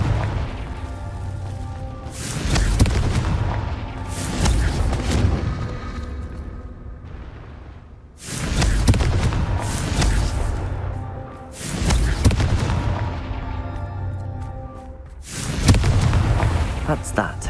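Confringo fire spells blasting in the video game Hogwarts Legacy, a series of heavy booming explosions that strike roughly every few seconds and decay slowly, with voices speaking between them.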